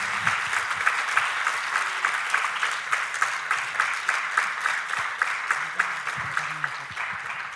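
Audience applause for Juanjo López at the close of a talk, a steady wash of many hands clapping that holds evenly for several seconds with no voices over it.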